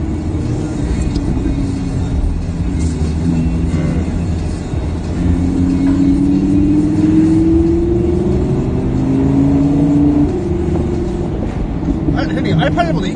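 A tuned Audi R8 with chrome wrap revs its engine on a street, a loud rising and falling roar under continuous chatter from people nearby.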